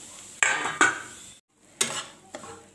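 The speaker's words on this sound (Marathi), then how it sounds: "तुपामध्ये आपण रवा चांगला भाजून घेऊ" A spoon scrapes and clinks against a pan as semolina roasts in ghee for sheera, with sharp metallic strikes and short scraping strokes separated by brief pauses and a moment of near silence.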